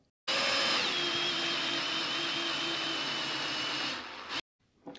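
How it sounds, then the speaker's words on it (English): A single close run of about four seconds as a 9/32 drill bit clears the nozzle of a steel rocket motor, a loud steady whir that cuts off abruptly, followed by faint shuffling. "I'm going to drill up through the nozzle with a 9/32 drill bit"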